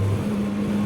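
A CFMOTO 675SR-R motorcycle engine running steadily while being ridden, a loud, close, continuous drone with wind noise and no talking, heard for under a second.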